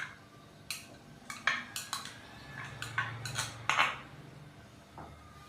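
A metal spoon stirs yogurt into a masala for bhindi masala in a pan, with a series of sharp clinks and scrapes against the pan at an uneven rhythm, close and fairly clear, with no talking.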